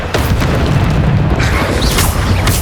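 Bombarda spell explosion in Hogwarts Legacy, a loud, sustained booming blast with rumbling low end and a few bursting pops layered on top, without any voices.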